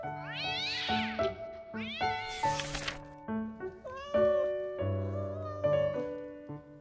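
A scared kitten meows repeatedly, several clear, high, rising cries in quick succession, close and fairly loud with no other sounds around them.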